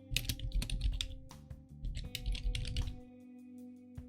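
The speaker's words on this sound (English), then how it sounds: "if I could type" Keys clatter on a computer keyboard in quick, uneven bursts of typing, close and clear over a steady low hum, then trailing off into a few isolated taps.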